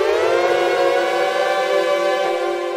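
A sustained, bright ASM Hydrasynth chord with many stacked harmonics, played without poly aftertouch, holding steady and loud without any swell on individual notes.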